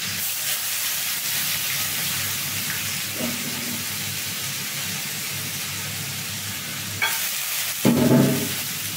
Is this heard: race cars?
no